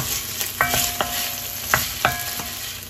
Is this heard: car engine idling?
no